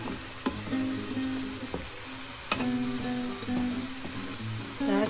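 String beans (sitaw) sizzle in a frying pan for adobong sitaw, a steady bright hiss broken by a few clinks and stirring knocks from a utensil.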